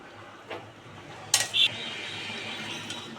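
A metal lid is set onto a pot of prawn and potato curry, giving a short clatter and clink against the rim over a faint kitchen background, with no talk.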